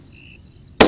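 A single sharp handgun shot fired at a large Florida alligator, loud and close, cutting abruptly into near silence with a faint high insect-like whine beforehand.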